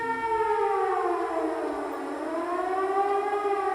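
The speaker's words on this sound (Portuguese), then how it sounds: "Nossa, quebrou toda a imersão essa sirene aí." A wailing civil-defense-style siren in the video game A Letter to the Future, rising and falling in long smooth sweeps, loud and continuous and heard alone.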